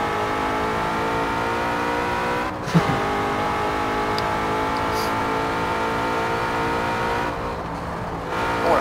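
Car engine revving hard in the Forza Horizon 4 racing game, a steady harmonic drone with gear shifts and fuel-cut stutters, plus a brief sharp break near three seconds, loud and continuous with no talk.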